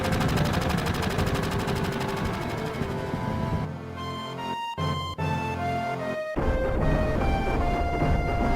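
Fireworks from the Final Fantasy 7 video game crackle and burst in rapid, dense volleys over a steady musical score, pausing briefly before the loud barrage resumes.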